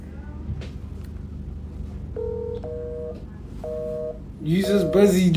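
Telephone call being placed: a series of steady beeping tones from dialing and a ringback, followed by a louder electronic busy or ringing signal with faint room talk in the background, nobody picking up.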